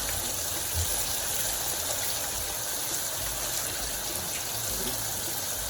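Steady running water gushing and splashing into a pot for several seconds, fairly loud and continuous, with no talking.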